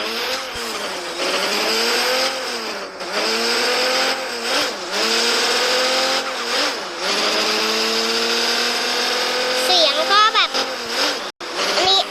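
A car driven on a test track, its engine note droning steadily and rising and falling through repeated revs and gear changes, loud and close for about twelve seconds.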